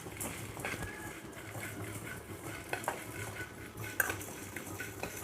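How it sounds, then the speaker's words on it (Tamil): Spices dry roasting in a pan for a chicken curry, mostly metallic clinks and scrapes of a spoon stirring against the pan over a quiet low hum, with only a faint hint of sizzle. "இது எல்லாமே ட்ரை ரோஸ்ட் பண்ணி நல்லா வறுபட விட்டு இறக்கிக்கலாம்."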